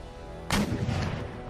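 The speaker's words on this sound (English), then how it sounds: "Terrible shots against the camels." A musket volley crashes out in the battle game Empire: Total War. Shots from many guns merge into one sudden, loud burst, then rattle and trail off over a second of battlefield noise.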